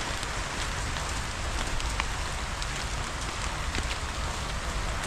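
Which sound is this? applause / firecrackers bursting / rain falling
rain falling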